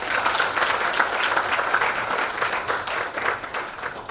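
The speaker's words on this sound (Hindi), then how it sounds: "तालियां होनी चाहिए।" A crowd applauds at a ceremony presenting certificates to A-category nursing and paramedical institutes, with steady, full clapping that holds for about four seconds and eases slightly toward the end, with no speech on top.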